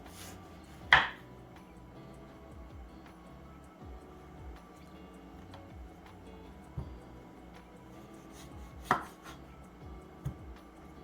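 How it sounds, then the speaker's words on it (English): A knife slicing through mango on a cutting board gives a few sharp, sparse taps and a soft knock, quiet and close, with long pauses between cuts. "Just slice it like that. Just slice it up."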